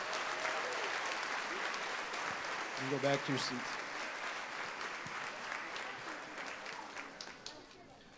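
Applause from the audience at a school spring band concert continues as a steady wash of clapping, with someone speaking briefly over it midway before the clapping gradually thins toward the end.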